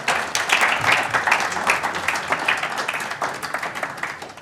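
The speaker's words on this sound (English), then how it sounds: "One more big round of applause, please." A conference audience delivers a big round of applause after a speech on sustainability in the UAE, a dense, steady crowd clapping that continues throughout at fairly close range.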